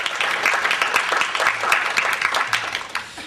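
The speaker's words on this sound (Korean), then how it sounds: "박수로 맞이해 주시기 바랍니다." A seminar audience at a security policy forum applauds to welcome a graduate school dean to the podium, a sustained round of close, dense clapping throughout.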